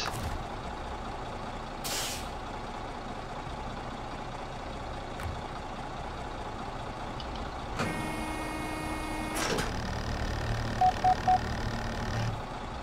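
Three short electronic beeps from a metal detector in SnowRunner sound in quick succession near the end, over a steady engine rumble and truck air-brake hiss.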